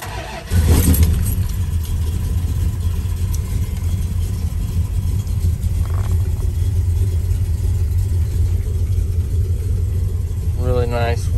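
A 1970 Dodge Charger engine starts and settles into a steady, loud idle rumble, with a brief key-buzzer tone near the end.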